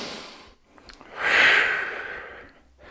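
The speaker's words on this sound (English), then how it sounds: "The breathing will get under control." Heavy breathing during a home dumbbell workout: a short exhale, then a long loud close rushing breath that swells and fades, with no speech.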